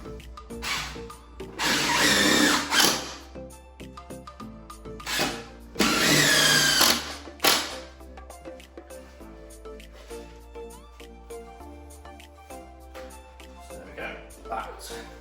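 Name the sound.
power drill driving screws into a porch bracket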